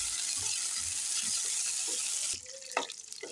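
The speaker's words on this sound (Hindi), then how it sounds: "सबसे पहले हम किशमिश भून लेंगे" Raisins frying in hot oil in a pan make a steady, fairly loud sizzle for about two seconds. The sizzle then drops away, leaving a few clinks and a brief tonal squeak.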